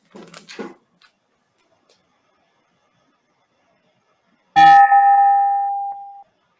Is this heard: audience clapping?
no